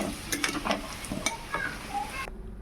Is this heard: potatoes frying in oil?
yes